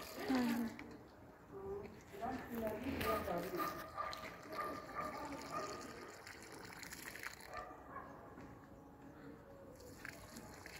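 Water is poured onto garden plants, a quiet, continuous splashing trickle heard under ongoing talk.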